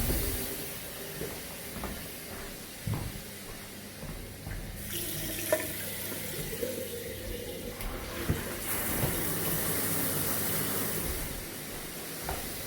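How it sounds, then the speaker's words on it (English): A shower runs on water from a DAB Esybox mains boost pump, a steady broadband hiss of spraying water with shifting splashes and a few knocks, close and continuous, with no talking. "Shower's working a dream."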